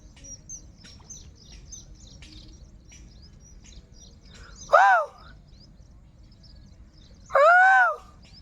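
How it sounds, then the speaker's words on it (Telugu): Birds call among rice paddy fields, two loud, close, sweeping calls a few seconds apart over faint scattered chirps and a low steady outdoor background. "పొలాల మధ్య పక్షులను అయితే తోలుతున్నారనమాట."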